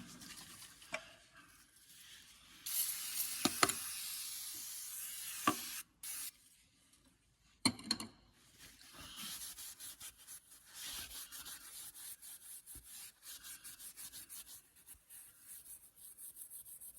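A cloth rubs and wipes the surface of a Schlüter tractor engine block clean during a dye penetrant crack check, with soft scrubbing strokes, brief spray bursts and a few short pauses, close and fairly quiet.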